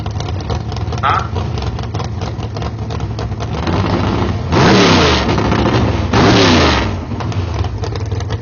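Drag racing cars at a PDRA bracket race in Memphis idle and rev near the track, with two loud roaring bursts of acceleration sweeping past, while an announcer talks over the engine noise throughout.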